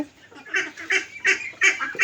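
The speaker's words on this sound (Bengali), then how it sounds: "আর এগুলো আমার হাঁস, রাজহাঁস আছে, চীনা হাঁস আছে" Geese honk close by in a quick series of loud, nasal calls, several birds overlapping in an uneven rhythm.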